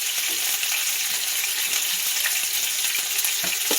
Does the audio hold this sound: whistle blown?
no